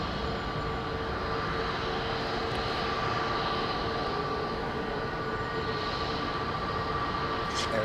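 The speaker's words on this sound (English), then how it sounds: "It's a big super stretch 777-300 over the top." A Boeing 777-300 jet airliner departing London Heathrow passes overhead, a steady broad engine roar with a faint whine, moderately distant and continuous throughout.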